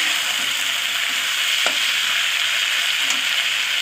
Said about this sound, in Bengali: ভালো করে এটা আমি ভালো করে ভেজে নেব।